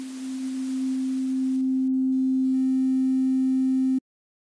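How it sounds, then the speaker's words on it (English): A synthesizer oscillator producing tuned noise filtered into a sine shape: a steady, loud pure tone held for about four seconds as the breathy noise beneath it narrows away, then cut off abruptly. "As we can hear, the sinusoid shape is created by filtering of this noise."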